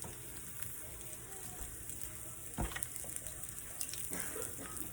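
Eggs fry in a pan for huevos rancheros, making a faint, steady sizzle and crackle throughout with a few louder pops and clinks. The sound is quiet and continuous.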